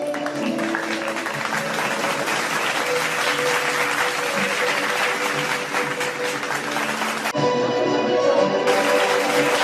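Sustained applause from a large student audience at an alumni meet in Pune, a dense continuous roar of clapping that holds steady throughout, with a faint tonal hum beneath and a brief change in texture near the end.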